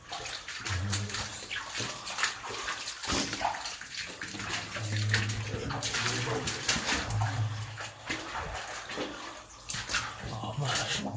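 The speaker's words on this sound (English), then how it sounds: "Look at the fucking water coming in the wall." Water pours and splashes steadily through the wall of a cramped underground tunnel at Petworth Park, a continuous wet rushing that fills the clip, with voices talking over it.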